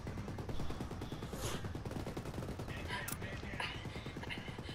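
Rapid bursts of video game gunfire from a multiplayer shooter, dense repeated shots crackling continuously at moderate loudness with a few sharper cracks, under busy game ambience.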